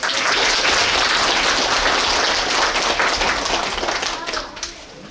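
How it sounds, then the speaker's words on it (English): Steady, dense applause from an audience rolls on at full strength for several seconds before fading near the end, with some talking mixed in beneath the clapping. "Can we just give everyone a round of applause?"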